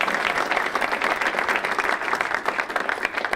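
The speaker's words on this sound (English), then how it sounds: "That's worth a cheer up for John" An audience at a city and county management conference applauds a professor, a dense, steady wash of close clapping that lasts throughout without letup.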